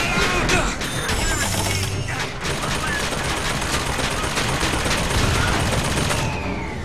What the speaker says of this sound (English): No, stop shooting him.